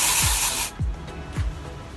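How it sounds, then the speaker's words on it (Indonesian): A hair volume spray misted onto hair: one close, loud hiss about half a second long, stopping abruptly, followed by a few soft low thumps. "Aku semprotin lagi."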